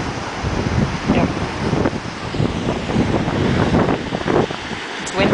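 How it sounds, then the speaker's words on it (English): Strong gusty wind buffeting the microphone on a beach, roaring and uneven, with surf washing in the background and sand blowing. "It's windy out here."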